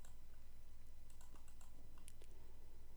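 Keys clicking in short irregular bursts on a computer keyboard while programming a PIC16F877A microcontroller, faint and close over a steady low electrical hum, with no voices.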